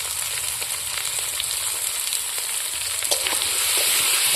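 Potatoes frying in hot oil with turmeric and salt over fried onions make a steady, close sizzle with faint crackles throughout, growing slightly louder toward the end.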